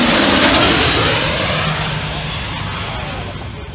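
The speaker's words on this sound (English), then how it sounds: "Watch this P-8 Poseidon coming in low and fast during air show practice." A Boeing P-8 Poseidon jet makes a low, fast pass during air show practice, its loud broadband engine roar filling the air and slowly easing as it moves away.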